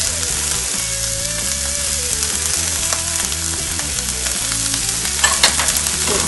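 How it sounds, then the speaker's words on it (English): Beans, dried mushrooms and carrots stir-fry over medium heat for spring rolls, giving a loud, continuous dense sizzle with faint scraping strokes and a brief sharper clatter near the end, with no talking. "Stir fry it in medium heat."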